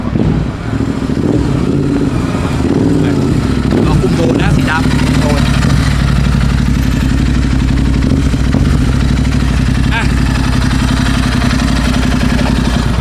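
Royal Enfield 650 motorcycle with an Arrow exhaust idling nearby, a steady deep low rumble that runs throughout while someone talks over it.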